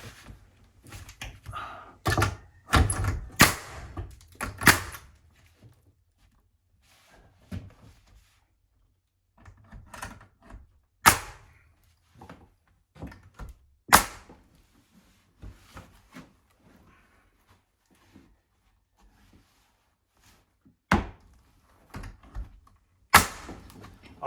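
Nail gun firing into wall board during mobile home wall rebuilding, a run of sharp, close percussive shots in irregular bursts with pauses between, loud against a quiet room.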